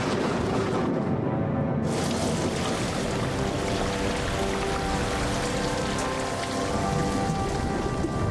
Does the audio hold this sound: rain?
yes